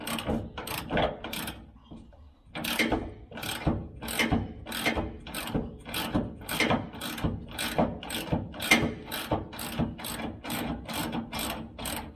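A ratchet works loose the tight rear shock absorber bolts on a Ford F150 pickup, a close run of rapid clicking strokes in a steady back-and-forth rhythm after a short pause.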